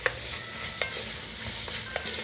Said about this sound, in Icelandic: Og hérna þarf að hræra.